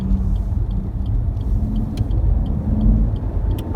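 Low, smooth idle of a 2017 Suzuki Ignis 1.2 SHVS mild-hybrid petrol engine at a standstill, a steady quiet rumble heard from inside the cabin with a few faint clicks and no voices.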